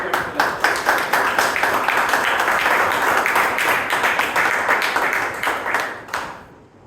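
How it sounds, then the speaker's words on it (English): Applause from the audience at a Bangalore Toastmasters club meeting, honouring the meeting's role takers: dense, steady clapping from many hands that fills the room for about six seconds and then dies away. "A big round of applause for all the role takers."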